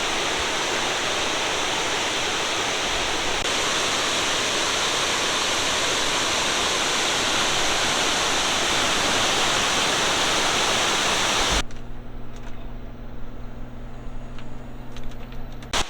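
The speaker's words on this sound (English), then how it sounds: "checking out the water on the first bridge here. Again, it's ripping through." High water rushes through a Great Smoky Mountains stream near Gatlinburg after Hurricane Ida, a loud, continuous broadband roar close by that abruptly drops to a quieter, steady rumble with a low hum near the end.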